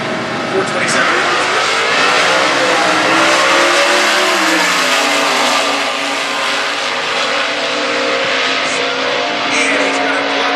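Drag racing cars, one a 2014 Camaro, launch side by side in Stock class eliminations at Indy, a loud sustained engine roar that rises and holds for seconds while a commentator talks over it.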